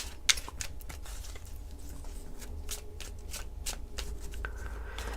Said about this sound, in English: I'm not going to fast forward through my shuffling.